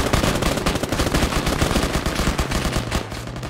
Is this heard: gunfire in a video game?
yes